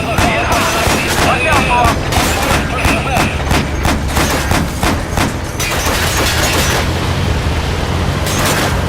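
Rapid gunfire and heavy booming explosions from a gunship shootout in Metal Gear Solid V, dense and loud throughout the whole stretch, with someone briefly shouting a warning over the barrage.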